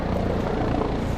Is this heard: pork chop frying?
no